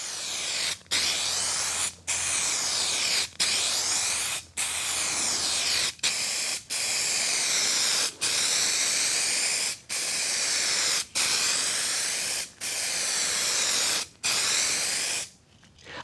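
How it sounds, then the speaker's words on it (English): Spray can laying metallic paint onto a car body panel during a blended repair: about a dozen close, steady hissing bursts of one to two seconds, each split by a brief pause. "I'll just put a bit more spray on top"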